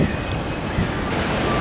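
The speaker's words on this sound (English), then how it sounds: "it's just so windy out" Wind buffeting a microphone outdoors in California, a steady low rumbling roar with a faint tonal hum in the background, brief and continuous.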